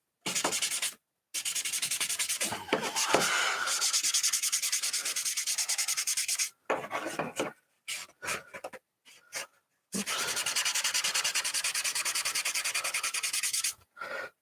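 A red scuff pad rubs briskly over painted armor in bursts of close, rasping back-and-forth scrubbing, broken by short pauses, with no talk.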